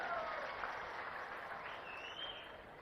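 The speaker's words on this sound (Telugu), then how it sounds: "వాళ్ళు గట్టిగా చప్పట్లు కొట్టి అభినందించండి" A large audience at a public government event claps for award-winning panchayat villagers, sustained applause that holds steady throughout at a moderate distance.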